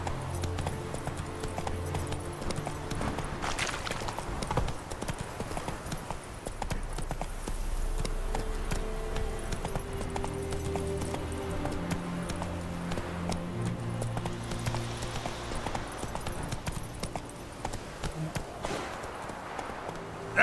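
Roach the horse galloping in The Witcher 3, a steady rapid clip-clop of hooves running on and on at close range, with occasional speech over the game sounds.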